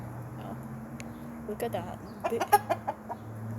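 Hens cluck and a rooster calls in a backyard flock at a grandpa's farm, short bursts rising over quiet ambience while a person talks nearby.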